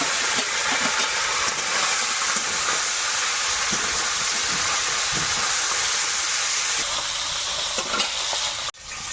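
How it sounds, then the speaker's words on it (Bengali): Parshe fish frying in hot oil, a loud, continuous hissing sizzle with crackling spatter that holds steady throughout, close to the pan. "তেলটা ভালো মতো গরম হয়ে গেছে এখন মাছগুলো দেবো"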